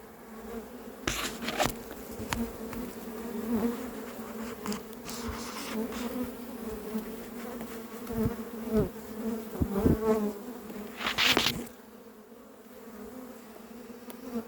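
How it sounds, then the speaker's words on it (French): A honeybee colony being poured into a cardboard box hums in a steady, close drone, with occasional louder buzzes and thumps as bees move about. "j'ai plus qu'à verser les abeilles dans le carton."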